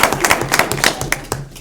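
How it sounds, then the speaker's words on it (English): Scattered clapping from an audience at a school board of education special meeting, a loose run of distinct hand claps close by, uneven in rhythm and tapering off. "That deserves a whole clap. Clap it up."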